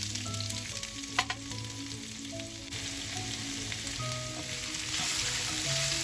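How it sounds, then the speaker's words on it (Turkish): Onions frying in oil in a pan that was just used for zucchini: a loud, close, continuous sizzle with a couple of brief clinks from stirring and no talk over it. "Aynı tavaya, aynı yağın içine soğanlarımızı ilave edelim."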